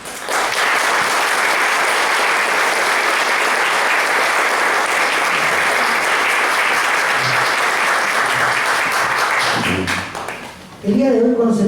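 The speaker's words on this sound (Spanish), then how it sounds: "damos inicio con un fuerte aplauso al encuentro de ideas educativas y sociales" A book launch audience breaks into loud, sustained applause, a dense wall of clapping lasting about ten seconds before fading, followed by a voice starting to speak.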